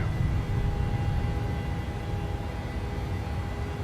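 A PMDG 737 in Microsoft Flight Simulator 2020 roars down the runway on its takeoff roll, a loud, steady broadband engine rumble with a faint constant whine and no talking.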